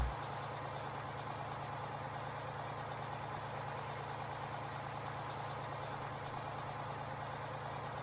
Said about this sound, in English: I think they could have done a little bit more work on this truck as far as the sound.